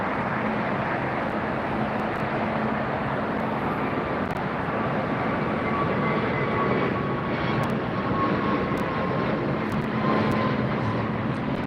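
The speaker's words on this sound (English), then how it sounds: "That's the Horizon Retro livery on that Alaska Air." An Alaska Air plane in Horizon Retro livery, operated by Horizon Air and arriving from Boise at LAX, produces a steady, loud jet roar that holds evenly throughout with no voices.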